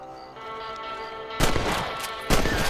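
Two sharp rifle reports from a hunting scene in Red Dead Redemption, aimed at rabbits, each hitting suddenly with a loud broadband crack after a stretch of steady tonal game music and ambience.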